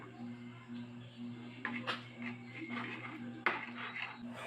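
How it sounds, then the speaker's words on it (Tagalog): A spoon stirs pork caldereta with pork stock cubes in a metal pot, making a few clinks and scrapes over a steady low electrical hum, with one sharper knock partway through. "Ilalagay natin ang Knorr pork cubes at haluin lang natin."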